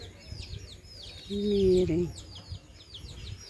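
Small chicks and hens on a country farm cluck and peep in a steady scatter of soft high calls, with one louder drawn-out cluck in the middle and a voice speaking briefly nearby.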